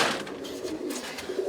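Roller pigeons coo softly in a nest box, a short run of low, throaty warbling notes close by, with no talk.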